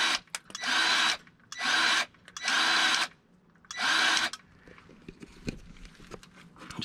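Four bursts from a handheld auto greaser pumping grease into truck kingpins, each a loud, close mechanical whir lasting about a second with short pauses between, then quieter background clatter.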